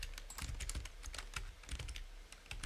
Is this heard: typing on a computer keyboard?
yes